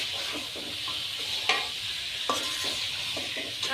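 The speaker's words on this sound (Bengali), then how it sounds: "এখন মাংসগুলো এখন আমি ভালোভাবে নেড়ে চেড়ে কষে নেব।" Duck meat stirred and fried in a pan for a village-style curry with potatoes, heard as a soft steady sizzle broken by several scraping strokes and a few sharper knocks of the spoon.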